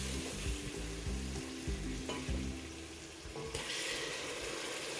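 Chopped tomatoes and green chilies frying in oil for chana pulao, a loud steady sizzle with occasional spoon scrapes and stirring, later settling into a hissing crackle, no talk.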